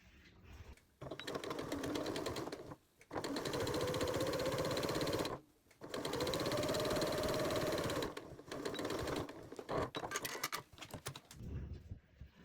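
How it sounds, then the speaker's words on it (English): A sewing machine stitches a 1/4 inch seam along folded fabric for a bow napkin ring, running in several steady bursts of close, even mechanical whirring separated by brief pauses. "we're going to fold right sides together and stitch using 1/4 inch seam allowance right along this edge"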